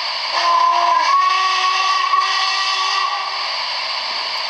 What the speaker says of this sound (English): Your short whistle.